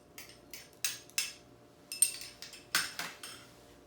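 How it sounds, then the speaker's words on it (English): Green peppercorns go into a Steak Diane sauce in a pan, heard as a series of light clinks and taps of a spoon or utensil against metal, close and quiet, with soft sizzling beneath and no voices. "we're going to add in our green peppercorns"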